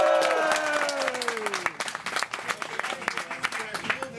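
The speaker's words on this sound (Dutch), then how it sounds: "ik vind eigenlijk wel dat er een klein applaus voor me komt" Modest applause and clapping from a crowd at an outdoor barbecue event, scattered hands clapping close by with a few voices and chatter mixed in, tapering off toward the end.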